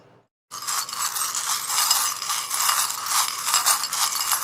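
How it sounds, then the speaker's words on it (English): Dense, continuous rattling and riffling of tarot cards being shuffled close up after a brief quiet start, loud and steady throughout. "there is quite a lot of sound that comes through when I shuffle"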